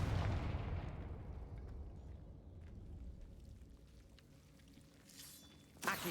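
The Confringo explosive spell in Hogwarts Legacy bursts with a heavy booming blast that rumbles and slowly fades, followed near the end by a faint sharp impact, with no voices.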